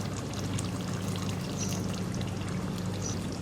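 Kewra water poured into a pot of mutton korma, a soft continuous trickling pour heard close up over a low steady background hum.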